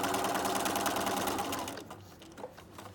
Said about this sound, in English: we're going to just backstitch 1 or 2 so there's not a big bunched up area on your napkin